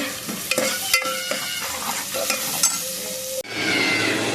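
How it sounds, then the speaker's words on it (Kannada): Chopped onions sizzle and fry in coconut oil for a Mangalore-style egg curry, with steady close crackling and several scraping stirs of a spoon against the pan. "ಸ್ವಲ್ಪ ಎಣ್ಣೆ ಹಾಕ್ತೀನಿ ಈರುಳ್ಳಿ ತೆಂಗಿನೆಣ್ಣೆ ಯೂಸ್ ಮಾಡಿದೆ ನಾನು ಈರುಳ್ಳಿ ಸಣ್ಣ ಚೆನ್ನಾಗಿ ಫ್ರೈ ಆಗಲಿ"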